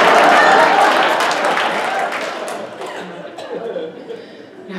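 A comedy show audience bursts into applause that gradually fades, with some chuckling and murmuring as the clapping dies down.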